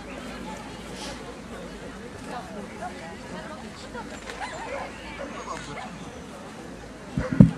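Puppies bark and yip at a dog show judging ring for the best puppy contest, with Siberian Husky and Newfoundland pups present, amid steady crowd babble and announcer talk, ending in a louder close bark.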